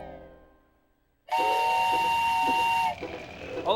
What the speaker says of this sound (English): I have a train whistle.